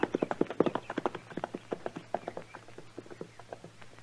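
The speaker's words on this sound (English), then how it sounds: "I left my horse over the rise there, Snyder." A horse's hooves clip-clop on firm ground in a western TV drama, a quick close rhythmic series of hoofbeats that gradually fades slightly, with no speech.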